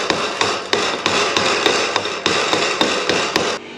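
Repeated hammer blows driving nails into wood while framing a house, about ten sharp, evenly spaced strikes close by and loud, with no talking.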